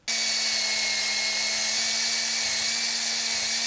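A power drill fitted with a wire brush whirs steadily at high speed with a constant hum, stripping paint with a harsh abrasive hiss throughout, close and loud.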